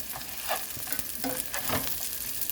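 Lobster pieces for lobster mac and cheese sizzle in a hot pan, a steady, fairly loud crackle with a few sharper pops and stirring scrapes, close and continuous without talk.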